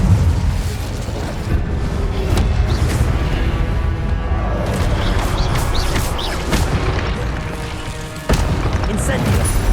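Incendio fire spells in Hogwarts Legacy erupt in a barrage of booming, crackling bursts over a roaring battle bed, loud and continuous, with voices mixed into the din.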